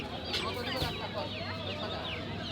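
Chickens cluck in a busy winter poultry market full of ducks, geese, pigeons and quail, with a chorus of hens under a steady crowd murmur and people talking nearby.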